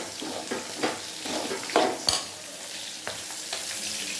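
Tomatoes for a Kerala fish curry frying in a pan and stirred, giving a soft continuous sizzle broken by several sharp scrapes and knocks of a spoon against the pan.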